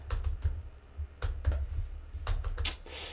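Computer keyboard typing in short irregular bursts of clicks, close and moderately loud, with brief pauses between runs of keystrokes while a plain text file is being edited.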